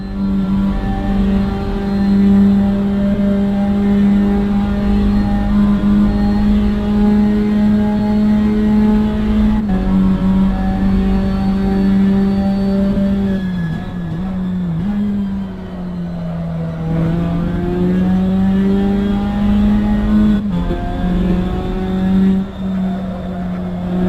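A GT race car on a hot lap in Assetto Corsa, its engine droning steadily at high revs, with pitch dips and climbs through gear shifts and corners, loud and close for the whole run with no talk.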